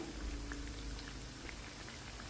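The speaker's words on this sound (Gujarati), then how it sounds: "હવે આપણે આ ટિક્કીને હાઈ ફ્લેમ ઉપર તળવાની છે" Methi tikki deep-frying in oil over a high flame, a steady soft bubbling and crackle with scattered small pops, close and continuous, with no voices.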